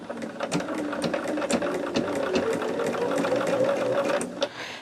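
Sewing machine stitching a fabric strip for a quilt block, a steady close rapid mechanical hum with ticking needle strokes running continuously for several seconds.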